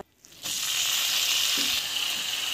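Food sautés in a hot pan with a bright, steady sizzle that starts abruptly after a brief quiet moment and carries on evenly at close range, with a few faint stirring knocks.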